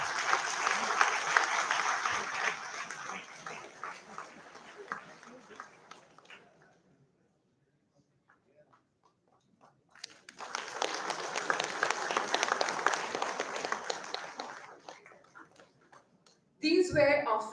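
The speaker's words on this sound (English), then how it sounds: "Can we have that huge round of applause?" An audience at an institutional ceremony claps in a long, dense round of applause that fades out, goes quiet for a few seconds, then swells again into a second loud burst.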